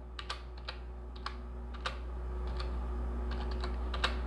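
Typing on a computer keyboard while filling in an address form, a dozen or so light, irregular key clicks close by over a steady low hum, no talking.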